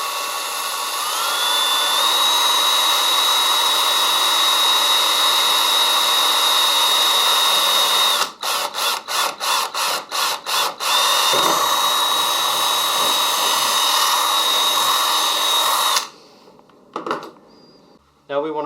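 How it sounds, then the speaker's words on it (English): A power drill fitted with a number 27 bit whines at a high, steady pitch, then stutters in a rapid series of short on-off bursts before running steadily again and cutting off near the end. "I use a number 27 drill bit"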